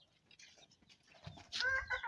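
A chicken at a Turkish village farmyard gives a few short, soft clucks nearby, ending in a brief louder burst.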